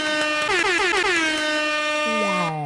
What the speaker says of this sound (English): Air horn it up.